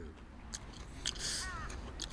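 Crisp bites and chewing of a sweet, freshly dug Gujwa carrot from a Jeju field, a few sharp crunches close up over steady background noise, with a faint voice briefly heard.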